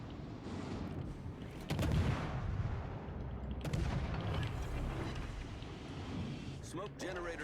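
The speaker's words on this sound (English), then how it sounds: "You can hear the cannons on this." Naval cannons boom in the World of Warships Legends naval battle game, with several heavy shots under steady in-game noise while someone talks over them.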